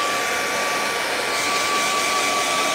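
Hair dryer blowing over wet paint on a painting, a loud, even, close whir with a steady tonal whine running unbroken throughout, with no voices.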